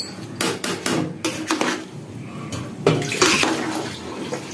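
Chicken khichuri being stirred in a cooking pot: repeated scraping and clattering strokes of a spoon against the pot, fairly close, in irregular bursts with a wet, sloshing texture and no talk.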